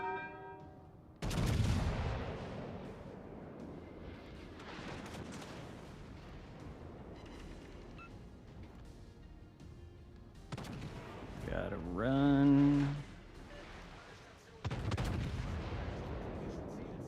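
Naval artillery in World of Warships: Legends, with heavy booming shell salvos hitting and firing in several separate bursts, loud and close, broken up by quieter gaps.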